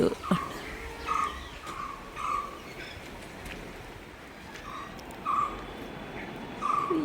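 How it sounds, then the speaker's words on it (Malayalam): An Asian koel calls repeatedly from a distance, its two-note cries recurring every second or so over faint background noise. "അപ്പുറത്തെവിടെയോ കുയിലിൻ്റെ സൗണ്ട് കേൾക്കുന്നുണ്ട്"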